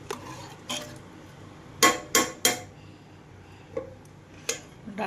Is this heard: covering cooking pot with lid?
yes